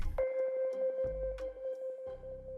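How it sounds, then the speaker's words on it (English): A Cymatic bell vinyl one-shot sample rings out with a clear sustained tone over crackly vinyl texture, with a couple of brief low thumps and noisy bursts underneath, fairly quiet and alone. "Next up, I got this Cymatic Bell vinyl one-shot."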